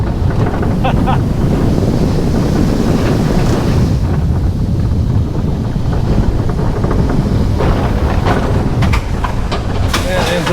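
Roller coaster ride at Busch Gardens during its second launch, with loud, steady wind rushing across the microphone the whole time and faint rider voices now and then.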